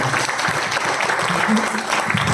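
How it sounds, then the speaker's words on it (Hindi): An audience at a hotel banquet hall business event gives loud, dense applause that carries steadily from start to end. "मैं चाहूँगा इनके लिए एक बार जोरदार ताली हो"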